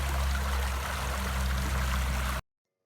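A creek flows with a steady, loud rushing of water that runs unbroken for over two seconds, then cuts off abruptly into silence.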